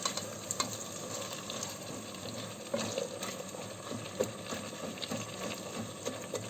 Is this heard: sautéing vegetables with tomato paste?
yes